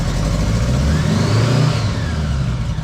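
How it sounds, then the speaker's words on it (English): A cold 1976 Honda Goldwing LTD motorcycle engine runs steadily with a low, continuous rumble and a faint rising whir, loud and close with no talking, on a hot day above 90 degrees. "You can see it's a cold engine."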